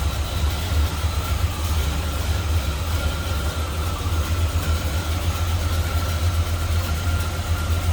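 Idling V8 in a 1966 Chevrolet Impala wagon with an Edelbrock intake and HEI ignition, a steady low rumble held close and even for the whole stretch with no talk over it.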